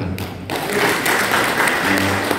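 Congregation clapping during a Sunday service at a Pentecostal church in Surabaya, a dense burst of applause that swells after a quiet start and holds steady, with a faint low hum underneath.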